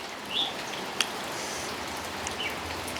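Steady rain pours down on a rural house during a wet evening, a dense continuous hiss with a few sharper drips and faint bird chirps over it, with no talking.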